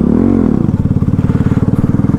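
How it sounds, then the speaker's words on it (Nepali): A motorcycle struggling to run in cold weather, its engine giving a rough, uneven chugging that settles into a rapid, pulsing idle, close and fairly loud with no voices. "चिसोले गर्दाखेरि कुद्नै मान्दैन बाइक"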